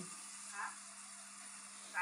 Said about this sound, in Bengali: এরপর আলু ফুলকপিগুলো একটু ভাজা ভাজা করে নিতে হবে